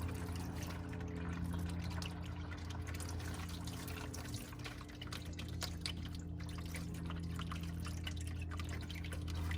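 Engine oil from a Ford F-150 trickles steadily out of the drain plug hole into a pan, a continuous soft liquid flow beneath a constant low background hum, with no talking.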